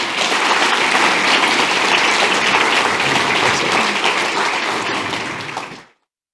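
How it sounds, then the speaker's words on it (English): A crowd at a technology awards event bursts into loud, dense applause that holds steady for several seconds before abruptly cutting off. "Let's give a round of applause to Michael."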